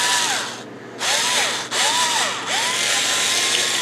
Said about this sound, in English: I'm going to take this drill bit.